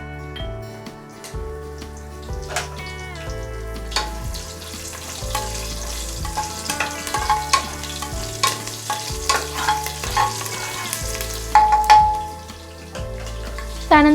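Four or five hot green chillies frying in a pan for matar paneer pulao in a pressure cooker, a close, steady sizzle with scattered clinks and stirring sounds and some faint background tones.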